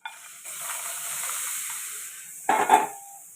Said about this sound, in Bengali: এটাকে ফ্রাই করে নেব